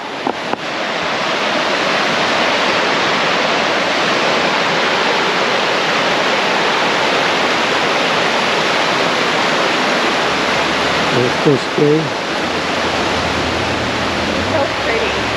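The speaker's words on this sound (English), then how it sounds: "Let us hear the other side of that river." Rushing water from a river flowing beneath a covered bridge in southern New Hampshire makes a constant, loud broadband roar throughout, with a brief spoken exchange near the end.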